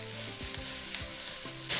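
Vegetables for salmon fajitas sizzling in a pan as they are stirred, a brief close hiss with a few quick spatula scrapes and no voices.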